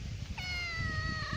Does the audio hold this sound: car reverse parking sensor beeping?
no